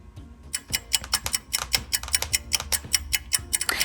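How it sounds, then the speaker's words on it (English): Rapid, irregular metallic snipping of scissors cutting a child's hair, crisp and close, clicking in quick bursts with no talking. "Excuse the noise in the background. If you can hear, my husband is cutting my stepson's hair."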